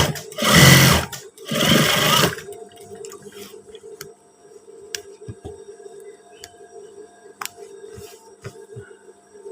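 Sewing machine stitching trouser fabric in two loud, close bursts of about a second each, followed by a quiet stretch of faint handling clicks and taps.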